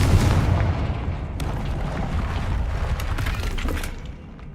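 A Confringo spell blast in Hogwarts Legacy, a loud booming explosion with crackling, shattering debris that swells and then slowly fades, with no voices.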